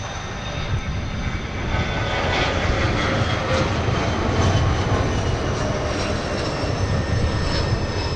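Delta jet taking off from runway 30 left at Minneapolis–St. Paul airport, a steady loud roar of engine noise with broad rumble and hiss sustained throughout, no voices audible.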